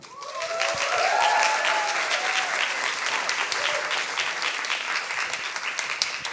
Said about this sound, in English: Big applause for Andrew.